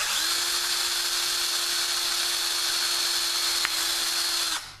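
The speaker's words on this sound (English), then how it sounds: "drill a hole in the center." A power drill whines steadily at close range for about four seconds, then spins down as the bit works through the center of a plastic 5-gallon bucket.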